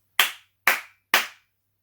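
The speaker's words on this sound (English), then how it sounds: "And I just clap." Three sharp hand claps in an even, steady rhythm, each crisp and close with a quick decay, followed by silence.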